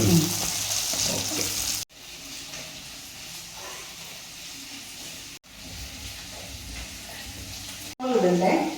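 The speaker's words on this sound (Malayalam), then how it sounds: "ഇനി ഇതൊന്ന് മൂത്ത് വേണം" Shallots and green chillies fry in a pan for Kerala mulaku puli with a steady, moderate sizzling hiss. The sound is cut by brief breaks, and voices are heard near the start and end.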